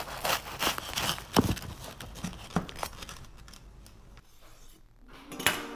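A knife cuts a crispy, buttery fried curry bread filled with curry and cheese in half, giving a series of sharp crunchy crackles and scrapes close by, busier at first and then thinning out to a few final crunches.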